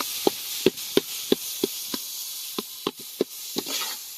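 Eggs frying in a pan for egg fried rice in a village kitchen in Kundapura: a steady soft sizzle broken by a dozen sharp taps of a utensil against the pan at an irregular pace.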